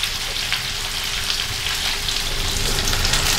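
Rice paper rolls frying in a small amount of oil, with a steady, close, bright sizzle and crackle that continues throughout and has no talk over it.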